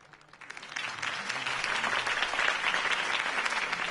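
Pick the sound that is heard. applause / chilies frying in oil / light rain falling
applause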